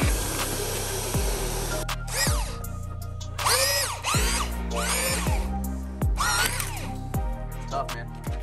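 A power drill with a paddle mixer churns very dry dry-pack mortar mud for a shower pan pre-slope, whining loudly in repeated bursts that rise and fall as the trigger is worked.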